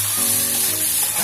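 Mashed pumpkin dries out in a hot pan with a steady, close sizzle that holds at an even level with no talking.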